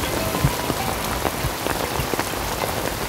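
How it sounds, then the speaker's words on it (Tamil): Rain pours down steadily in a dense hiss, with scattered sharper drop impacts on a surface throughout and no voices. "மழை வேற பெஞ்சிட்டு இருக்கு."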